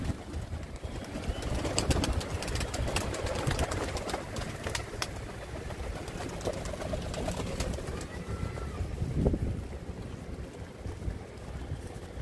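Pigeons coo softly while pecking at scattered grain, with scattered taps and bird calls over a steady outdoor background.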